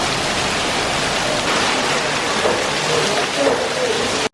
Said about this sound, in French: Il tombe littéralement des murs d'eau complets.